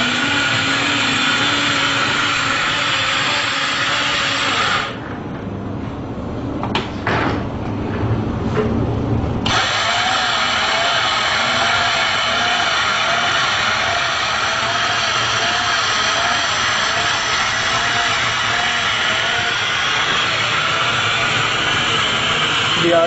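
The motor of a PLC-controlled wind power generation model starts up with a rising whine and hum, briefly interrupted by a clunk of switching, then spins on steadily with a mechanical rattle.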